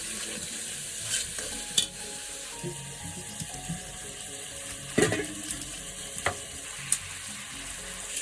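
Shing fish stir-fried with papaya in a pan, sizzling steadily under intermittent scraping and stirring, with a few sharp clinks of the utensil against the pan, heard up close.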